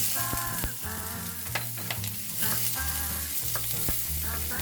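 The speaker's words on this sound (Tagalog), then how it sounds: "Ngayon ay umpisahan na nating igisa ang bawang." Loud, steady sizzling of garlic sautéing in a hot pan, with occasional stirring scrapes and a low musical hum underneath.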